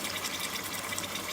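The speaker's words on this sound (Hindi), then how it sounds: "अब इसके अंदर मैं वही यखनी जो थी वो ऐड करूँगी।" Mutton stock (yakhni) poured into a pot of fried masala for mutton pulao, a steady close liquid rush filling the pot for a moment.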